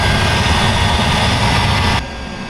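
A motor yacht engine runs in a steady, loud, close drone with a deep rumble and constant hum, then drops slightly in level near the end, with no talking over it.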